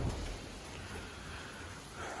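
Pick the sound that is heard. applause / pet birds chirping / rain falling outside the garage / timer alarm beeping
rain falling outside the garage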